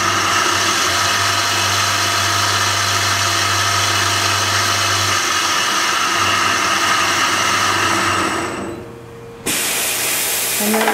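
Matrix Daytona XL edge polisher running, a loud steady machine whine and hum with a low drone that cuts out partway, dips briefly, then resumes near the end.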